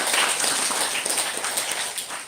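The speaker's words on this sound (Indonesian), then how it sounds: "Mari kita tepuk tangan untuk peparan juara." Church congregation at a Sunday service applauding for the Pomparan Juaro family, a brief spell of fairly soft, scattered clapping in a room, steady for a couple of seconds before fading slightly.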